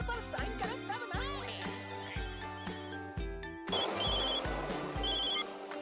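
A telephone bell rings repeatedly in steady bursts, close and bright, with a busier jangling stretch toward the end.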